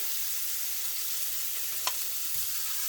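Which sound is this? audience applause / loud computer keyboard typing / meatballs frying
meatballs frying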